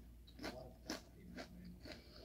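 Sour cream and onion flavoured snack chips crunched in four distinct close bites, quiet and spaced about half a second apart, with no talking.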